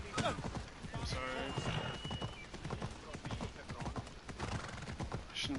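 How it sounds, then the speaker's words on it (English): In the video game Assassin's Creed, a horse gallops with rapid, rhythmic hoof clip-clops and gives a loud whinny early on, the hoofbeats continuing steadily under some talking. "I shouldn't be on my horse, I know, but it's the fastest."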